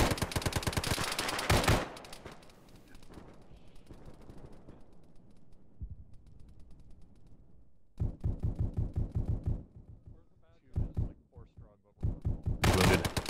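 Rapid automatic gunfire in a tactical military video game, loud bursts at the start and end with a quieter stretch of scattered distant shots between, and voices speaking over the action.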